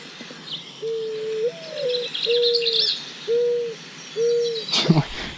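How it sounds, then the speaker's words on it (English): Recorded dove calls are played outdoors during a dove hunt. There are five clear, mellow cooing notes in an evenly spaced series, with a faint chirping in the background and a brief sharp knock at the end. "Just playing dove noises until they start flying over us, man."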